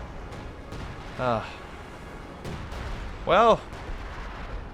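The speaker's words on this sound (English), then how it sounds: "Artillery has now found the American position" Artillery fire in the World War II strategy game Company of Heroes 2, with steady rumbling shelling and explosions around an American position, a few sharper blasts, and a voice briefly speaking over it.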